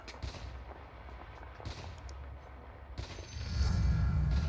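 Sniper's Shrapnel ability fires in the video game Dota 2, with sharp booming gunshot-like blasts followed by a heavier rumbling barrage of explosions that grows louder at the end.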